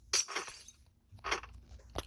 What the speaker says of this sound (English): Oh god, broken glass.